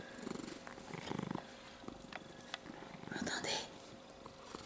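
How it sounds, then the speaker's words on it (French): A small pet cat purrs softly close by, a low rumbling pulse with brief breathy bursts, while a voice murmurs quietly over it. "Mon bébé, petit bonhomme, il ronronne."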